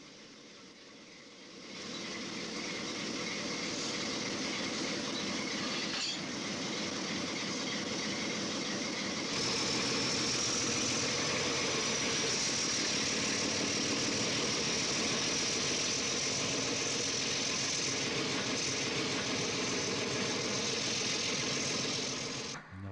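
Missouri Pacific Missouri River Eagle passenger trains meet at Atchison, Kansas, a loud continuous rumble and rolling rail noise that holds steady for the whole stretch, with a high tone rising briefly in the middle.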